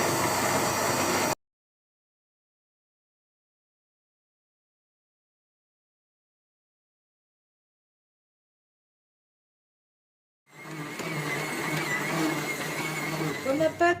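A stand mixer kneads semolina bread dough with a steady mechanical whir, heard briefly at the start, then cut off by a long silence before the motor hum returns near the end.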